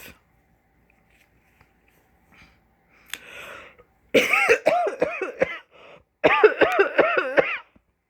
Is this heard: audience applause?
no